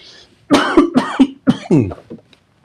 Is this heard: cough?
yes